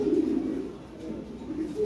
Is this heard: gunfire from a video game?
no